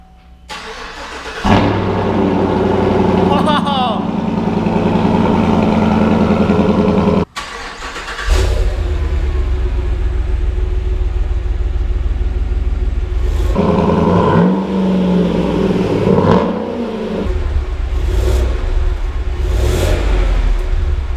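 A Cadillac Escalade fitted with a Corsa exhaust cranks and fires up, then idles with a deep rumble and is revved several times, loud and close, with a brief cut in the engine note partway through.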